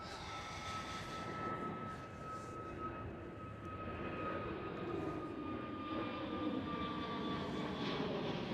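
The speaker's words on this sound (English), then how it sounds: "Transavia Airbus A321 Neo" A Transavia Airbus A321neo at Amsterdam Schiphol roars steadily under clear high turbine whine tones, holding a loud, continuous engine sound throughout with no voices.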